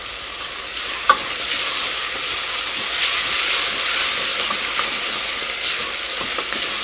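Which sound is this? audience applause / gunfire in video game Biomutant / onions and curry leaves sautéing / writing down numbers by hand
onions and curry leaves sautéing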